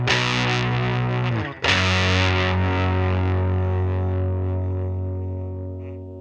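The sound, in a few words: silicon boost pedal hard clipping guitar distortion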